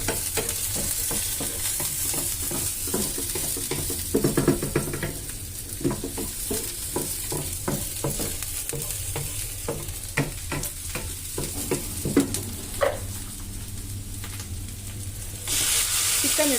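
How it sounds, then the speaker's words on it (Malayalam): Chicken frying with garlic, onion and ginger in a pan, with a steady sizzle broken by repeated sharp spatula scrapes and clanks, close by and busy throughout. "ആദ്യം വെളുത്തുള്ളി, സവാള, ഇഞ്ചി വഴറ്റി ചിക്കൻ ഇട്ടു."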